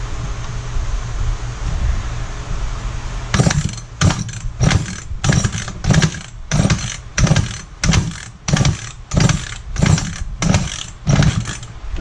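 Repeated pull-starts on a McCulloch Pro Mac 55 chainsaw, about a dozen rhythmic rasping recoil pulls after a quiet opening stretch, close and fairly loud, with the engine not catching.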